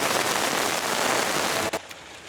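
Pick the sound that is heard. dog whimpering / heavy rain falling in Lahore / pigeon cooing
heavy rain falling in Lahore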